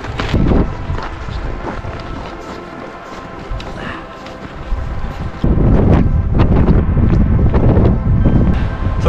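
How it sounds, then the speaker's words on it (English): Strong, cold gusty wind buffets the microphone throughout on Mt. Moosilauke's Carriage Road near the summit, roaring low and loud with rough bursts, swelling heavier in the second half. "it's super cold and windy"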